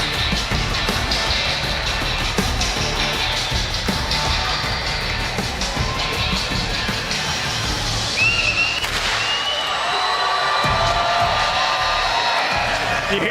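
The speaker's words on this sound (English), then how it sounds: "You hear the crowd. They've been cheering on EU all day" An arena crowd at the World Series of Warzone global final roars and whoops continuously, a dense wash of cheering that stays loud throughout, with a commentator's voice talking over it.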